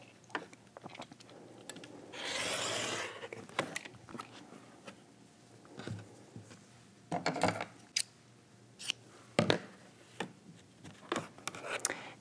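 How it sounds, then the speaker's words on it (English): Scissors snip through the bottom hem of a patterned shirt in a quiet room, giving a series of short, crisp cuts with pauses between them and one longer rustling stretch of fabric being handled. "I'm going to cut the bottom hem off of this other patterned shirt."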